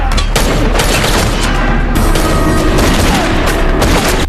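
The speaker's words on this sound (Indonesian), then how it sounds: "Mendengar suara tembakan yang terdengar di salah satu ruangan tersebut" Dense, loud gunfire crackles continuously, sharp shots overlapping in rapid volleys with booming low rumble underneath.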